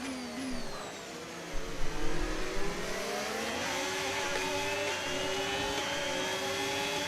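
Racing cars in a driving video game whine and rev close by, one engine note climbing and holding steady as another car tries to pass, with a few bumps and scrapes along the way.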